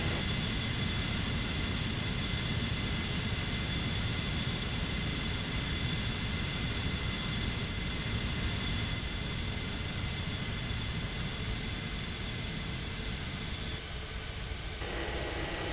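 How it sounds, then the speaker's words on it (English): Continuous loud broadband jet engine roar of an aircraft taking off in an air traffic control video game, steady throughout and dropping slightly near the end, with no voices. "Cleared for takeoff on 14 right FedEx 6015."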